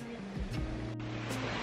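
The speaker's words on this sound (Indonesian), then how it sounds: "Nih sungai di belakang." A river flows steadily through an autumn forest in Turkey, a broad, continuous wash of water close to the microphone with a low hum underneath and no voices.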